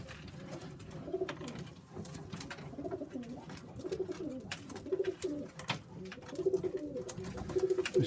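Sheffield Tippler pigeons coo repeatedly at close range, soft rolling calls rising and falling in overlapping bursts, with faint rustling and background bird noise and no talk.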